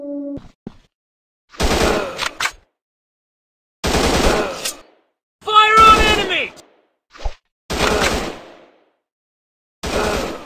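Automatic gunfire in the FPS Commando shooting game comes in short loud bursts separated by silent gaps, and one burst has warbling electronic game sounds mixed in.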